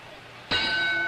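A boxing ring bell clangs once to start a round at a Rocky Marciano vs Roland La Starza heavyweight fight, a bright sustained ring that hangs over steady crowd murmur.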